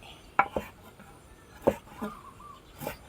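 Sharp knife chops through glass noodles on a cutting board, a few uneven strikes spread out, fairly close with quiet kitchen background.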